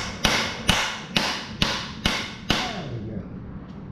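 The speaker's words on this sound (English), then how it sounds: "I think a little hammering knocks loose the rest" Six sharp metallic hammer blows on stubborn exhaust bolts of a 1977 Pontiac Trans Am, struck at an even pace about half a second apart, close and loud, then a quieter tail of clanks.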